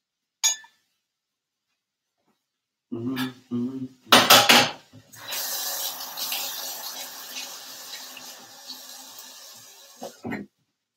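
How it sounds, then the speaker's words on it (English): Corn being stirred in a metal pot, with a few sharp scrapes and clinks of a utensil against the pot, then a sustained rattling, clattering mix that runs several seconds before a final knock. "Let's go ahead and stir up our corn"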